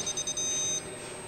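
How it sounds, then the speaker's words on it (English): A PESI credit card machine beeps as it shuts down, giving a few quick electronic beeps followed by one longer continuous tone, moderately loud and close, with no one talking. "Hold and press the red Cancel button. It will beep for quite a while."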